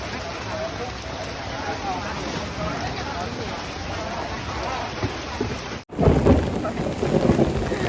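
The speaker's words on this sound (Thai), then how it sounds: "ฝนตกนะคะ" Steady heavy rain hisses continuously with a low rumble of thunder beneath, briefly cutting out before the downpour resumes loudly.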